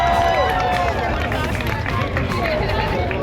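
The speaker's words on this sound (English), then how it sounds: "can we get a round of applause for this dog?" Crowd noise at a custom motorcycle show at the Sturgis Buffalo Chip, a loud continuous wash of clapping and cheering with a babble of voices over it throughout.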